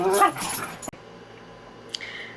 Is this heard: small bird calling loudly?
no